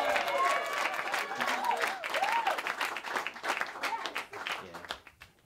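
A comedy special audience breaks into sustained applause with some cheering and whoops, loud and steady before tapering off at the end.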